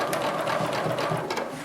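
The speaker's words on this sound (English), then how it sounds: "We're going to start stitching on the diamond grid." A sewing machine runs steadily, stitching a diamond grid on a quilt with a fast, even mechanical whir and rhythmic clatter of the needle. Close and continuous throughout, without talk.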